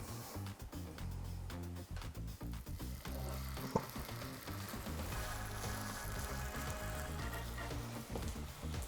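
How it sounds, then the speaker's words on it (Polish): Steady, dense sizzling of stuffed chicken fillets frying in oil in a pan, loud and close, with crackling pops throughout and no voices. "smażymy na patelni"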